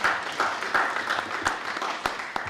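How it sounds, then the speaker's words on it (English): Audience in the Essex County Hall Chambers applauding honorees at a commissioners' special presentation, steady crowd clapping with a few sharper close claps standing out, continuous throughout. "give yourselves a round of applause"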